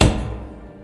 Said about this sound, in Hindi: दरवाजा जोर की आवाज के साथ अपने आप खुल गया।